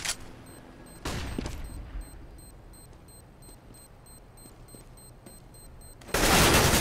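Gunfire in Counter-Strike on the de_dust2 map during a competitive match, short bursts of shots over steady game ambience with faint ticking, ending in a loud close burst.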